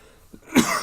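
A single sharp cough after a moment of near silence, close and fairly loud, followed by a short breathy tail.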